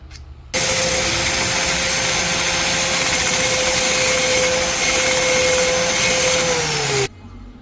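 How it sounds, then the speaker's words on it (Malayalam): An angle grinder bites into the side of a normal 12 mm steel bolt, a steady loud whining grind that holds for about six seconds before winding down and cutting off, with no talk. "12-ൻ്റെ നോർമൽ ബോൾട്ട് സൈഡ് നമുക്ക് ഗ്രൈൻഡ് ചെയ്ത് ഇതിൽ ഫിക്സ് ആക്കാം"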